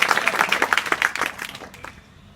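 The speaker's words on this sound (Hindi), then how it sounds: "इनके लिए ताली बजाओ।" A class of students at a school claps together in a brief burst of dense, fast applause close by that tapers off and fades out near the end.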